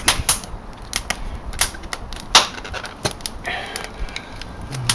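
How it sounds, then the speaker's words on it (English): A fire steel is struck repeatedly outdoors in cold, wet, very windy weather, giving sharp scraping rasps at an uneven rhythm, close by, over steady wind noise. "use a different fire steel this time"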